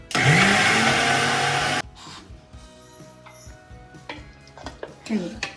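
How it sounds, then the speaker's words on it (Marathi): A mixer grinder whirs loudly for nearly two seconds grinding garlic, cumin, salt and turmeric, then stops abruptly, leaving faint kitchen clatter and small knocks. "आता हे सर्व आपण मिक्सरमध्ये आधी बारीक करून घेऊयात"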